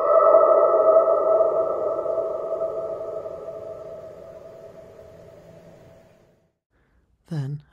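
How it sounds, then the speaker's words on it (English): A long, ringing tone echoes inside the sealed entrance of the Tyne Tees tunnel in the UK, behind a welded door, and fades slowly over about six seconds. A short vocal sound follows after a brief silence. "we found a tunnel entrance with a big welded up door on it, but you could look inside it, and it had an amazing echo"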